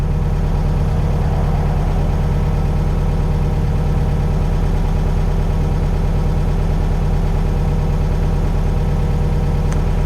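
A 1964 VW Karmann Ghia outlaw build's engine idles steadily at a high idle, a loud, close, even mechanical throb with a faint vibration running unchanged throughout, with no talking.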